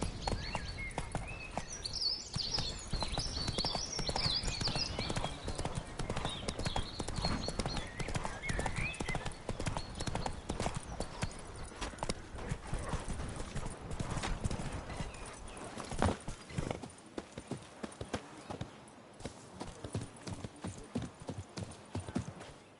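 Hooves of Roach, the horse in The Witcher 3, clip-clop at a steady walking rhythm, close and clear, with a brief whinny near the start and a short spoken line partway through.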